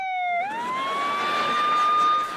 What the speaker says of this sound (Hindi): सायरन बज रहा है और कोई लाउडस्पीकर पे कुछ बोल रहा है